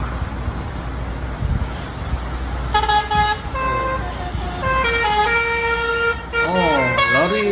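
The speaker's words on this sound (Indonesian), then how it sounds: "Oh, Abang Lori juga sibuk belanja HON Telolet." A Petronas gas tanker lorry's air horn plays a telolet tune, bright, wavering melodic honks starting partway through and sliding in pitch near the end, over traffic rumble with voices in the background.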